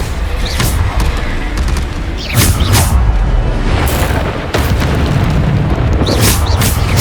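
Booming Bombarda spell explosions in Hogwarts Legacy erupt one after another, loud and close, layered with crackling bursts and impacts amid continuous combat noise.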